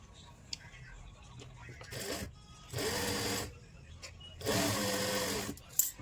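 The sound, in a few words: sewing machine stitching pleat on lined kurti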